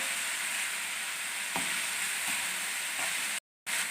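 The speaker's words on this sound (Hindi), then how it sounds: "अब हम इसमें नट्स ऐड कर देंगे। 1 से 2 मिनट के लिए इनको फ्राई करेंगे।" Nuts frying in hot oil in a pan for Kabuli chicken pulao give a steady, close sizzling hiss with faint stirring ticks, broken by a brief moment of silence near the end.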